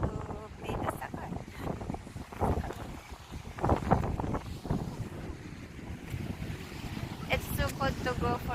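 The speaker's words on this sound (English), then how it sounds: "The wind is cold." Cold wind at a beach in Australia roars and buffets the microphone in a constant rumbling rush, with voices talking faintly under it and possible surf in the background.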